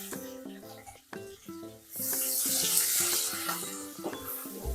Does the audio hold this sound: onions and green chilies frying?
yes